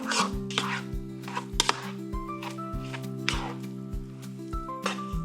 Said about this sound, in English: Let's mix these eggs.